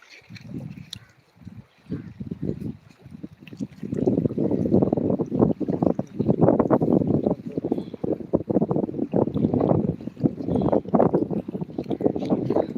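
Strong gusts buffet the microphone on a riverbank along the Padma during a fishing outing, a loud, continuous low rumble that swells and surges without a break.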